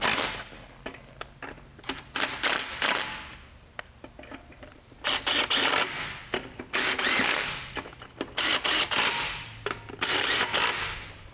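An air impact gun snugging down lug nuts on a 2009 Ford Edge during a front brake rotor and pad job, sounding as repeated loud rattling bursts of varying length separated by short pauses, close up.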